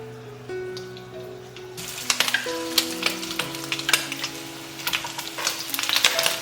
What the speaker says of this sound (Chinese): 再起锅热油，把排骨放进来煎